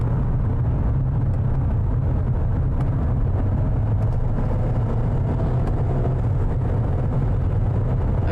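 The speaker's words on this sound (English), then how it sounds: "So let's downshift a little bit." 2021 Mercedes-Benz GLA 250 engine running while driving, a steady low drone with road and cabin rumble that holds constant and fairly loud throughout, with no voices.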